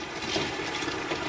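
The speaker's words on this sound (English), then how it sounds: "you'll have to run it under warm or hot water" Warm water runs steadily from a tap over a popsicle mold, a soft continuous splashing hiss, fairly quiet and close.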